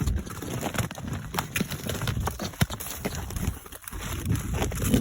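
Cows walking through snow after an ice storm, a steady run of crunching, trampling hoof steps close by with scattered thuds, while a person calls to the herd.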